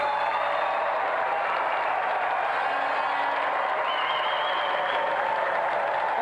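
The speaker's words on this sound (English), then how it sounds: "Let's have a warm round of applause for Tony the Lunatic Duray." A television studio audience applauds an arm wrestling competitor being welcomed on a games show, a smooth continuous wash of clapping and crowd noise that holds steady throughout.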